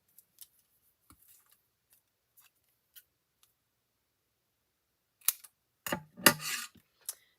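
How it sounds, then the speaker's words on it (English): Paper is cut with scissors after faint ticks and rustles, ending in a short burst of close, crisp snips. "And grab my scissors."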